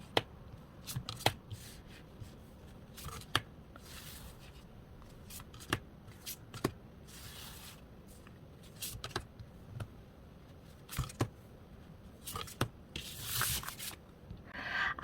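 Tarot cards being shuffled and picked out close by: soft sliding, rubbing and riffling with sharp flicks and taps scattered irregularly throughout, quiet and without talk.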